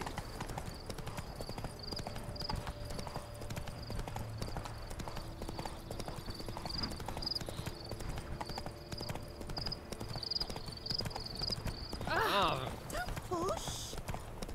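Roach, the horse in The Witcher 3, trots with steady, continuous clip-clopping hooves throughout, a bright ringing tone running alongside, and a short burst of voice near the end.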